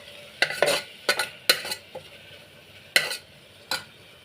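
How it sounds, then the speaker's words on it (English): A spoon stirs broken wheat daliya and vegetables inside a metal pressure cooker, giving several sharp scraping clinks in an uneven rhythm, close by with no talking. "now I am mixing all the ingredients"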